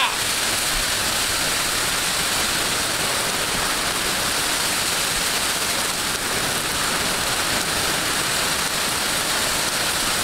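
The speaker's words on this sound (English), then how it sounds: "I'm going to kind of yell so you can hear me over the rain" Heavy storm rain pours steadily as a dense, continuous hiss and roar of drops hitting surfaces nearby, unbroken for the whole stretch.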